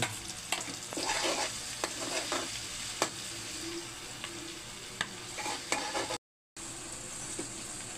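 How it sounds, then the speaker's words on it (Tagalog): Garlic, ginger and onion sauté in a pan for bopis, a steady close sizzle with repeated sharp scrapes and stirs of the spatula, one brief dropout near the end. "ang ating mga ginisang bawang, luya, saka sibuyas"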